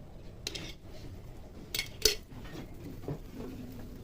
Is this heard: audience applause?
no